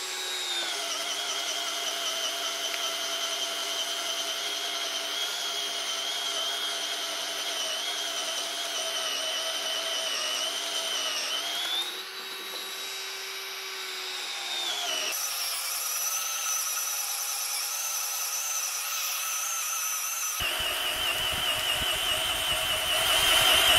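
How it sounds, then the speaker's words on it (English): Bosch 18V cordless drill with an auger bit boring into a wooden post, a steady whining motor drone that dips in pitch under load midway, then shifts and rises again, continuous and close with no talking. "same post, same auger bit, same test, 2 minutes drilling"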